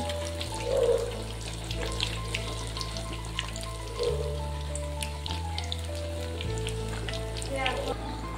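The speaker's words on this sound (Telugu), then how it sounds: "ఇలా వేసుకున్నాం కదా, ఈ గోల్డెన్ బ్రౌన్ కలర్ వచ్చేలా ఫ్రై చేసుకుందాం." Arati kaya bajji, battered raw banana fritters, fry in oil with a soft, steady sizzle and crackle running throughout, faint under a low electrical hum and occasional voice.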